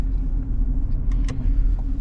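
A truck rolls in close with a steady low rumble, the engine droning continuously as it pulls up, a few faint clicks and rattles rising briefly over the drive.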